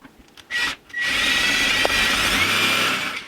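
A power drill whines briefly, pauses, then runs steadily and loudly as it bores into a stainless steel sink, with a faint scraping grind throughout.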